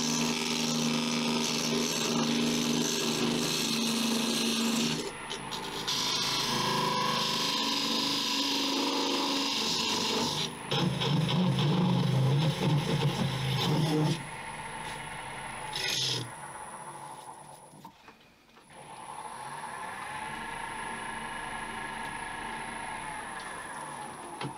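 A wooden bowl is parted off on a wood lathe, a loud continuous rasping and whirring of the tool cutting the spinning blank that shifts in pitch and texture, drops away briefly, then returns as a steadier hum.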